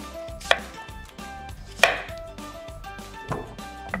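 Knife slicing through cucumber on a board, three sharp, distinct cuts spaced more than a second apart, close and crisp against a quiet background.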